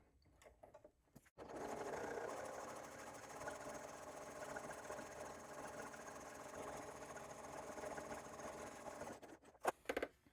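A sewing machine with a walking foot stitches a backpack strap, running in one continuous steady whir for several seconds, with short bursts of handling noise before and after.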